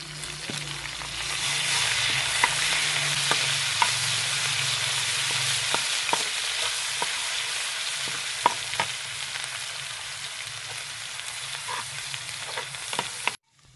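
Garlic and ground green chillies fry with browned onions for a moong and masoor dal, a continuous close sizzle punctuated by regular clicks of a spoon stirring the pan.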